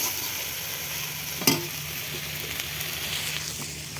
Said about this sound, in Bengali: এদিকে আমার কলার মোচা ভাজা কমপ্লিট